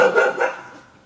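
A single dog barks once, loud and close, with the bark fading out quickly during a prank.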